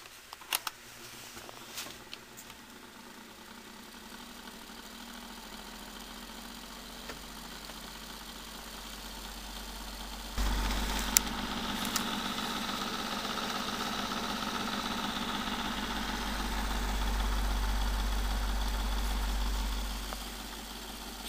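An average desk fan with dry bearings that need oiling runs quietly, a low steady motor hum and whirr that rises partway through as it picks up, with no talking.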